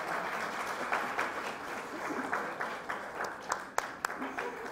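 An audience at a forum launch event applauds to welcome a guest, a moderate steady patter of clapping from a room of people, with a voice speaking over it.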